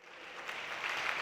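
A church congregation applauds, a dense wash of many hands clapping that swells slightly and holds steady, moderately distant with no clear speech.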